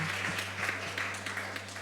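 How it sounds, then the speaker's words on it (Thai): Faint applause from a crowd at a Thai wedding reception, a soft continuous patter of many hands clapping, heard at a distance over a low steady hum. "ขอเสียงปรบมือดัง ๆ"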